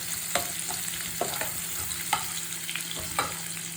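Green chillies frying in hot oil with garlic ginger paste for chilli chicken, a steady close sizzle broken by a few scraping stirs of the spoon, with no voices.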